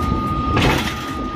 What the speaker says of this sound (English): A hydraulic horizontal wood splitter operates smoothly